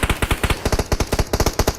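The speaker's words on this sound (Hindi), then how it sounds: "तभी पीछे की साइड से फायर आया।" Automatic gunfire from behind the player in the BGMI battle royale video game, a loud rapid burst of about twenty evenly spaced shots.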